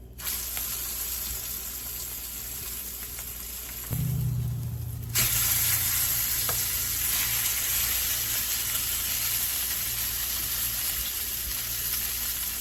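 Venison backstrap searing in a seasoned cast iron pan over medium-high heat, a steady broad frying sizzle that runs throughout and swells louder about four seconds in, with no talking.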